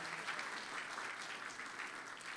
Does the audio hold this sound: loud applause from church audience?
yes